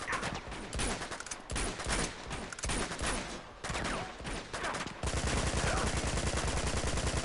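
Rapid pistol gunfire in Uncharted 2: Among Thieves, a dense run of sharp shots with brief gaps, then a steadier fast burst of evenly spaced cracks toward the end, loud with no talk.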